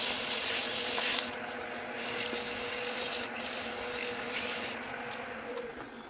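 A wooden mushroom pepper grinder being sanded with 800 grit sandpaper, probably spinning on a lathe, producing a soft, steady rubbing hiss with a faint mechanical hum beneath, continuing for several seconds.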